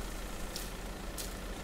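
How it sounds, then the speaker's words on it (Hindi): Tractor stuck in mud in the video game Farming Simulator 22, a constant loud engine drone with dense low rumble, and two brief hissing bursts over it. "कीचड़ की साउंड भी सुन रही होगी, ये कीचड़ है भाई।"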